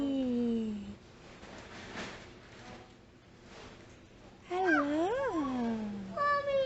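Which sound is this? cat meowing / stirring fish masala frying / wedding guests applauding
cat meowing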